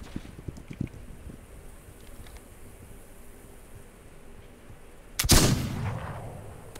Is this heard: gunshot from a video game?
yes